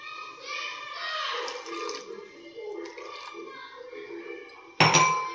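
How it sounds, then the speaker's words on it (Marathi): Water is poured into a pan of palak paneer masala during cooking, a short, loud splash arriving near the end after a stretch of nearby talking, including a voice. "पाणी टाकू."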